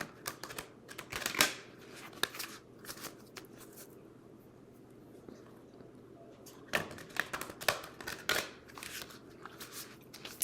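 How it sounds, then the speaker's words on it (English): A deck of cards is riffle shuffled in quick crisp bursts, a pause, then another round of rapid flutters, close up and fairly quiet. "let's give them a good ruffle shuffle here."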